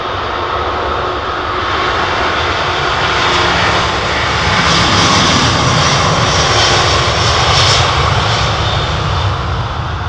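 Delta's jet engines spool up loudly and close by at London Heathrow, a broad roar rising steadily in pitch and strength over about ten seconds, with no voices.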